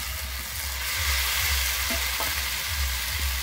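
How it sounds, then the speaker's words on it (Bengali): Pre-fried cauliflower florets go into a hot pan with masala and peas, and a steady, dense sizzle of frying oil fills the space, close and even, with a few soft stirring scrapes and no speech. "আমি এরপরে এখানে দিয়ে দিচ্ছি ভেজে রাখা ফুলকপিটা"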